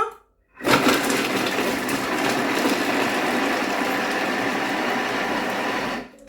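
After a brief silence, a Thermomix food processor's motor roars on at speed 5, whirring loudly and steadily for several seconds while chopping vegetables, before stopping.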